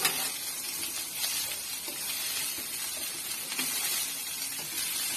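String beans (sitaw) dropped into a hot pan with tofu, frying with a bright, continuous sizzle and faint stirring scrapes, no voices over it.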